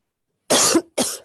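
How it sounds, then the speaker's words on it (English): Two sharp coughs in quick succession, loud and close, the first longer than the second, with no talking. "when I start coughing"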